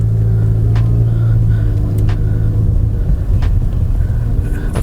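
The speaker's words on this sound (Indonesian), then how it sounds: "Kira-kira road noise-nya kayak gimana sih?" A steady low rumble of tire and road noise fills a Honda Civic Turbo cabin at speed, with a few faint clicks and thumps over it.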